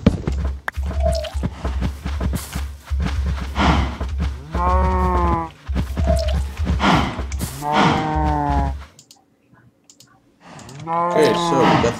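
Cows mooing in the Minecraft video game, several drawn-out bellowing moos spaced apart, with game clicking sounds and a person talking between them.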